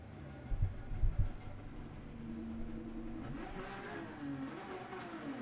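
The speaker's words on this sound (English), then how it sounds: "All right, car's fired up. Oil's warmed up. Motor's warmed up." Race car engine in the racing video game Gran Turismo 7 at Autopolis, idling and rising in low rumbling revs, with a few louder blips early on and a steady moderate drone after, fairly quiet overall.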